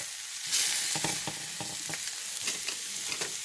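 Sausage sizzles in a hot frying pan with a steady bright hiss, broken by several sharp scraping and tapping stirs of a utensil against the pan; close up, with no talking.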